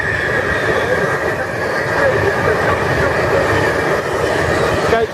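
A passenger train arriving at Milton Keynes Central station, with a loud, steady rumble of wheels and carriages rolling close past the platform for the whole stretch.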